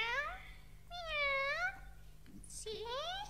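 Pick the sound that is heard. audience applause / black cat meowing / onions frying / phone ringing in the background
black cat meowing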